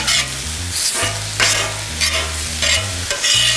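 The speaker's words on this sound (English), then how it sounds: "I'm gonna use your little grill cleaner and I'm gonna incorporate that into the potatoes" A little metal grill cleaner scrapes fond across a flat top grill while potatoes sizzle, working the browned bits into them: a few short, rough scrapes spaced about half a second apart over a steady fry, with low sustained tones underneath.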